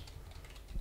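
Soft, quick keystrokes on a computer keyboard, a faint brief burst of light clicks.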